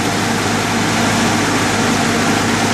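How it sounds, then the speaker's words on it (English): A 1989 Cherokee engine idles steadily and loudly up close at a lowered idle, a constant low rumble with an even hum and no pauses. "it sounds like my idle is a lot lower than it was previously"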